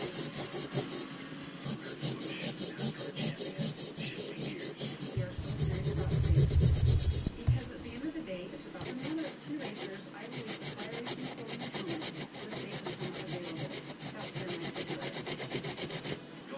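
A wooden guide being beveled and cleaned out on its backside to take new hardware, heard as steady, rhythmic rasping and scraping strokes up close, with a louder, heavier burst of cutting partway through.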